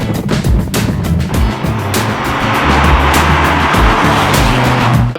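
A Ferrari convertible driven with the top down, its engine roaring steadily up close with sharp bursts and rising revs, wind and road rush blending in, no talking.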